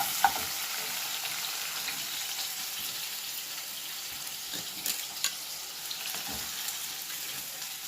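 Chopped onion sizzles in hot oil in a pan, a steady close hiss with occasional soft scrapes of a spoon stirring, no voices.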